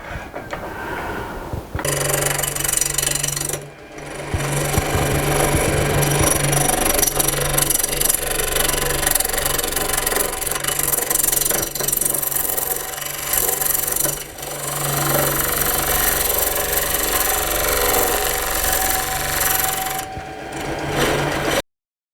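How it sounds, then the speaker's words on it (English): A woodturning lathe facing off a piece of wood and cutting a small tenon gives a steady, loud scraping hum with a low motor drone, running almost continuously after a short quiet start, with brief dips in between. "I'm going to face off this and just put a small tenon on it."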